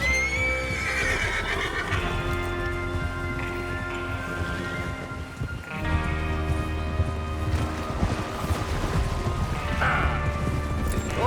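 Horses neighing and whinnying in Red Dead Redemption 2, their hooves clopping over a dense outdoor rumble, with repeated loud whinnies, the last one sharp near the end.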